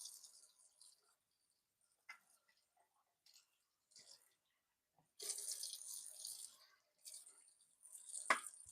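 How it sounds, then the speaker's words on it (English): Cold press juicer parts rinsed under running tap water, with intermittent splashing bursts that grow stronger and more continuous near the end, and a sharp clatter of parts as they are handled. "Just rinsing everything out."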